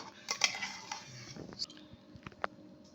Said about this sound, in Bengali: আমি এর মধ্যে চিলি সস মিশিয়ে দিচ্ছি